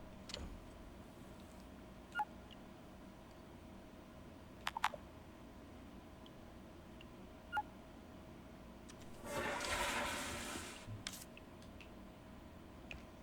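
A toilet flush in the video game Abiotic Factor is a short, quiet whoosh of about a second, set among sparse faint clicks in an otherwise hushed scene.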